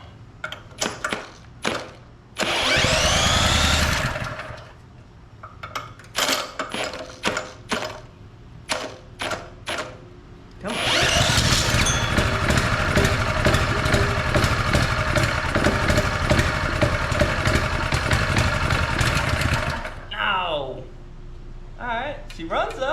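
A once-seized Honda GX200 small engine is pulled over, catching in short bursts of rattly sputtering, then settling into a loud, sustained mechanical running clatter at close range before cutting out, with someone talking between attempts.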